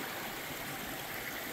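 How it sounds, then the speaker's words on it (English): A little stream on the Appalachian Trail flows steadily, a soft, continuous, faint hiss of running water with no voices over it. "I stopped here by this little stream"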